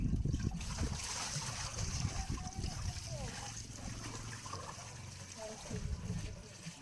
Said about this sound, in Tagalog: Ito po ang tubig miracle water galing sa ilalim ng tulay